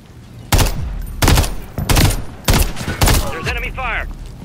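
Enemy gunfire in Modern Warfare 3: four loud, evenly spaced bursts of shots crack close by, and a voice speaks over the last one.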